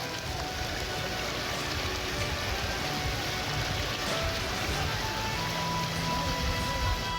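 Heavy rain pours down steadily during a flood in North Sumatra, a dense, constant hiss of raindrops with a rumbling wash beneath it and no voices.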